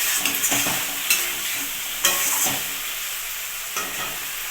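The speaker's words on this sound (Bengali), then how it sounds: "কেটে রাখা টমেটোগুলো দিয়ে দিলাম। টমেটোটা একটু নাড়াচাড়া করে এখন" Chopped tomatoes fry in a pan with ground spice paste, giving a steady sizzle broken by several sharp scraping stirs of a spoon against the pan, close and fairly loud.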